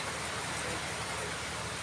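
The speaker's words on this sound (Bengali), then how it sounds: "প্রচুর পরিমাণ বৃষ্টি, বাইরে অনেক বৃষ্টি হচ্ছে।" Heavy rain pours outside a shop where water leaks through a holed tin roof. The sound is a constant close wash of hissing noise with no pauses.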